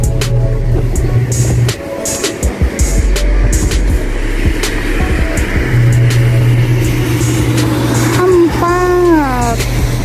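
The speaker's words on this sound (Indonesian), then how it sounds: "menghitung mobil yang lewat." Cars pass along busy Sanmin Road in Baojhong, Yunlin, Taiwan, making a steady rumble of traffic with louder surges as vehicles go by, while a person talks throughout.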